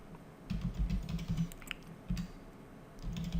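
Quick bursts of typing on a computer keyboard, close and clear, rapid key clicks with a short pause in the middle before typing resumes.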